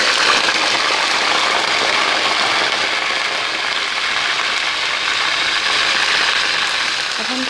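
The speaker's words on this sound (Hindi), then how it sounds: "बल्कि आई थिंक चिकन डाल ही देते हैं, हम श्योर कि डाल जाए।" Chicken pieces go into a pan for chicken korma, giving a steady, dense sizzling hiss of frying that holds level throughout, with no talk over it.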